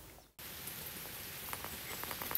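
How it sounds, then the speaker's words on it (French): Rain falling outside, a steady soft patter with scattered individual drops, heard alone after a brief dropout at the start. "Il pleut dehors, je vous ai montré"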